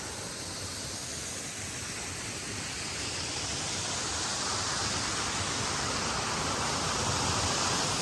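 A waterfall at Vila Franca do Campo on São Miguel, Azores, gives off a steady, dense rush of falling water, loud and unbroken from start to finish with no voices.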